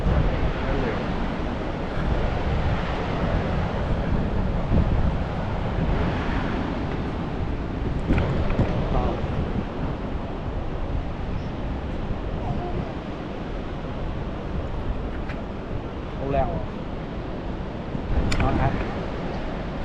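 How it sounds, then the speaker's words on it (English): Atlantic Ocean waves washing in steadily beside the Kasbah of the Udayas in Rabat, Morocco, with wind buffeting the microphone. The broad surf wash is continuous and fairly loud, and a few faint voices are briefly audible. "This one is a Atlantic Ocean."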